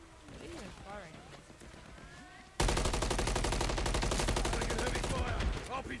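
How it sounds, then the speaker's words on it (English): In Call of Duty Modern Warfare 3, heavy automatic gunfire bursts in abruptly midway and rattles on as a loud, rapid, sustained barrage, following a stretch of quieter game ambience with voices. "Taking heavy fire!"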